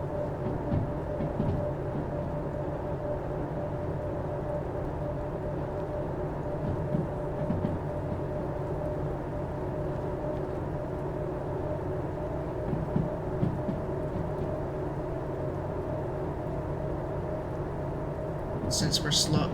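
A heavy 856-ton harbor freight train rolls downhill in the Derail Valley simulator with a continuous low rumble and occasional wheel clatter, while someone talks over it throughout.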